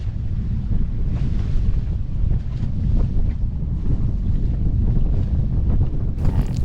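Strong wind roars across a sailboat beating into a solid headwind on the Hauraki Gulf, a loud continuous low buffeting rumble of wind on the microphone with faint water wash beneath and no voices.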